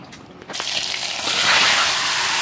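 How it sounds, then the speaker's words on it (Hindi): Turmeric frying in hot oil: a quiet start, then a sudden loud hiss of sizzling that swells and holds steady, close by and with no talking. "हल्दी फ्राई हो रहा है।"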